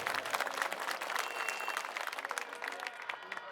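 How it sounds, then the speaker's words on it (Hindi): Dense crowd applause at an Aam Aadmi Party election rally in Mangolpuri, Delhi, a loud, continuous wash of many hands clapping together that holds steady for several seconds, with no voices over it. "मैं चाहता हूं जोरदार तालियां उनके लिए एक बार आप लोग बजा दीजिए"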